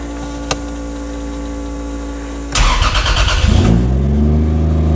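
A 2JZ-swapped Mercedes W124 cranks over and fires up, then settles into a loud, steady idle with a rough, rumbling burble close by.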